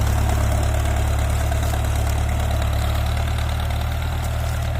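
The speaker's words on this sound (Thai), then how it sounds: "รอบเครื่องกับต่ำครับ" An engine runs at low revs, a steady, loud, throbbing low rumble with a constant mechanical drone and no pauses.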